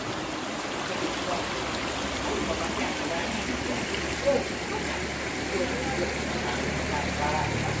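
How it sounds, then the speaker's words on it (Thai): Water at Si Sangwan waterfall in Pha Daeng National Park pours in a steady, close, broadband rush that continues unbroken for the whole stretch. "น้ำตกสีสังวาน อุทยานแห่งชาติผาแดง"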